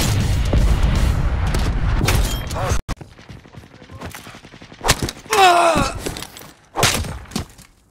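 Missile strike explosions from the Call of Duty video game map Nuke Town, with loud booming blasts and rumbling gunfire up front, then sporadic bursts and a whooshing impact as the noise thins out.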